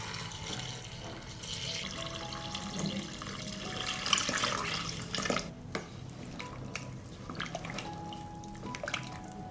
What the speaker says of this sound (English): I will pour 2 liters of water.